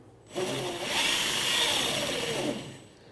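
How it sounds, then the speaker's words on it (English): A power drill whirs for a few seconds, its motor pitch rising and holding as it bores a bolt hole through a part while installing a horn on a 2020-or-later Can-Am Spyder RT, then stops. "you're going to need to drill a hole right through this one and this one"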